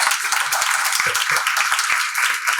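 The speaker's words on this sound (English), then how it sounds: "I think we can finish with a big round of applause for our audience." An audience at an education leadership panel event applauds, a dense, steady round of many hands clapping that fills the whole stretch without a break.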